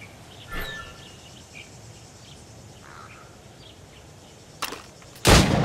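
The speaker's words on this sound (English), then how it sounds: "Shoot these targets." Gunfire at practice targets in the video game Assassin's Creed Rogue: a few sharp shots spaced seconds apart, the last one loudest, over quiet ambient insect and bird sounds with no talking.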